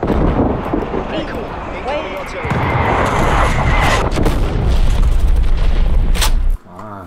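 Artillery strike in Call of Duty Black Ops Cold War hardcore multiplayer: a dense run of loud, rumbling booms and blasts over several seconds with gusty noise, cutting off abruptly near the end.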